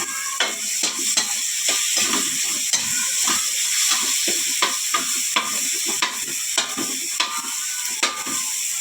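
Garlic sizzling in hot oil while frying for monggo with pork bones, a steady bright hiss broken by regular scraping stirs of a spatula, close and fairly loud.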